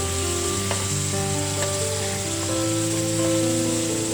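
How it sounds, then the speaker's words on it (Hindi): Spice paste for tawa kaleji (liver masala) fries steadily on a hot tawa, a continuous loud sizzle with occasional faint spatters and stirring scrapes, no voices. "और अब ये पेस्ट को भून देंगे इसी में।"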